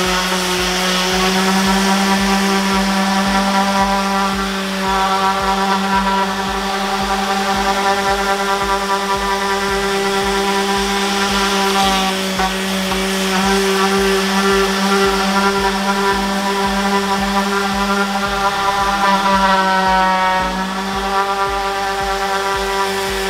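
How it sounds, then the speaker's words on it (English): A loud orbital sander sanding drywall drones steadily and continuously, its motor whine holding a constant pitch with a faint rasping texture underneath, no voices. "smooth it down with the orbital sander"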